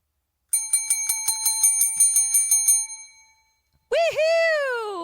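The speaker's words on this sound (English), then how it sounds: "it was a little bell, which we started using for whenever we got points" A small hand bell rings in a rapid run of about a dozen bright metallic strikes that ring out and fade, followed by a cheering voice.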